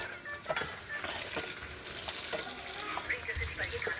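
Chillies roasting in a hot pan, a crackling sizzle with scattered pops and stirring scrapes, close and steady throughout with no talking.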